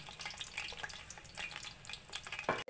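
Chopped onions frying in two cups of hot oil for mutton yakhni pulao, a steady crackling sizzle with scattered pops and light stirring, close and fairly quiet, ending in a brief clatter.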